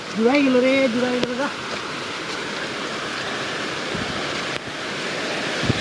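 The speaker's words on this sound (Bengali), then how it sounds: "শব্দ শুনতে পাচ্ছেন ঝর্ণার।" A waterfall in the countryside near Barlekha rushes with a steady, even roar. A voice is heard briefly at the start, over the constant wash of falling water.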